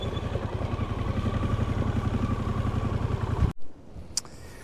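Motorcycle engine idling close by with a steady chugging pulse, then abruptly cut off as the bike is parked, leaving quiet outdoor ambience on the Auckland west coast.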